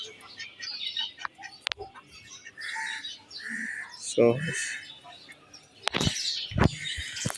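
Duck calls and other bird sounds come in short bursts around a person talking, with a couple of sharp knocks near the end.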